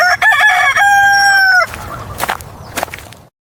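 A rooster crows once, loud and close, a long strained cock-a-doodle-doo that breaks off into a few rough clucks and rustles before fading out.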